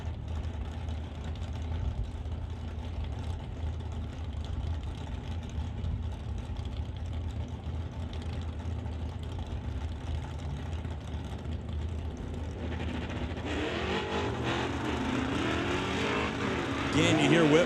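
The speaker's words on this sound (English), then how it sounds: "Again, you hear Whitworth feathering that throttle." A Ford Mustang drag car at a race, its engine droning steadily with the throttle feathered, then rising louder near the end, with a commentator talking over it.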